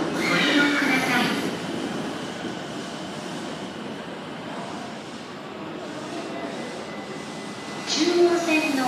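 A Chuo Line commuter train rumbles steadily through a station without stopping, with rail noise and a brief metallic squeal near the end; Japanese announcement voices are faintly mixed in.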